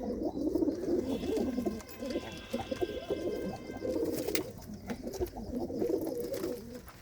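Pigeons coo repeatedly in low, throaty rolling phrases, close by, several birds overlapping with soft flutters and faint chirps between calls.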